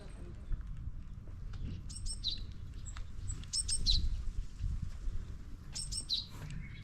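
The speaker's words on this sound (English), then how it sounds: "You hear the birds." Small birds chirp in repeated short bursts outdoors in Kamakura, Japan, clear but moderate against a low hum of street ambience, with no talking.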